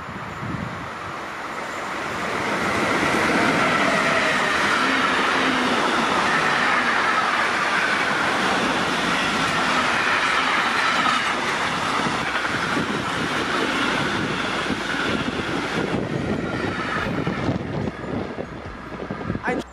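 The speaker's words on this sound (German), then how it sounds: "Leider haben sich jetzt hier zwei Züge gekreuzt" Two trains crossing on the Left Rhine railway line at Sinzig make a loud, sustained rumble and rush with some wheel clatter and wind noise, swelling and then slowly fading.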